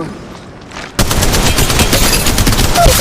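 Gunfire in the mobile battle royale game Apex Legends Mobile, a dense, loud burst of rapid shots that starts abruptly after a quieter opening and keeps firing continuously to the end.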